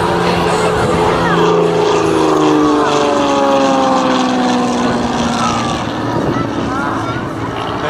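Propeller-driven aerobatic plane of the Żelazny team performing at a 2012 air show in Kraków, Poland, a loud, continuous engine drone whose pitch slides downward as it sweeps past overhead, filling the whole stretch.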